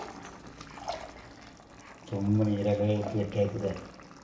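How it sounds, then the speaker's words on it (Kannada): Water poured into a cooking pan for a simple egg dish, a steady liquid rush lasting about two seconds under a person talking, after a quieter stretch. "ನಾನು ನೀರು ಹಾಕ್ತಾ ಇದ್ದೀನಿ ನೋಡಿ"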